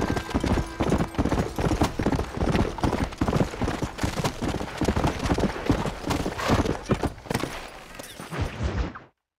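Rapid, loud hoofbeats of a galloping horse in Red Dead Redemption pound in a steady rhythm for several seconds before cutting off abruptly.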